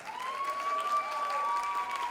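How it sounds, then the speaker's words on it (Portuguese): Sustained audience applause fills a university ceremony for a rector's reappointment and the installation of directors, a dense steady clatter with a thin ringing tone running through it. "a quem eu peço mais uma salva de palmas"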